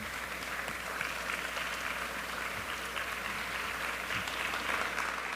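A standing audience at a presentation applauds farm partners, giving a broad, even wash of clapping that holds steady throughout, somewhat distant and diffuse in a large room, with no clear voices on top.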